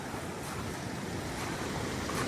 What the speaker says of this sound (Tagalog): Tubig dagat